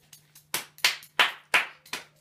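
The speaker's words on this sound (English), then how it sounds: "let's give him a round of applause" A small, sparse group claps for a drawing of Kurt Cobain: about half a dozen distinct, separate claps with short gaps between them, close and fairly loud in a quiet room.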